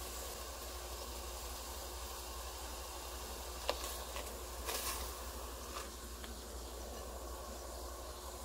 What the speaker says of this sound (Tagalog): Kumukulo na yung tubig, so pwede na natin ilagay yung noodles